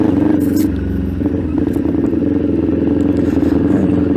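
Kawasaki Ninja 400 (2021) fitted with an SC Project exhaust, idling and blipping close by, a loud throaty burble with a short rev near the start over a rattly, crackling engine note.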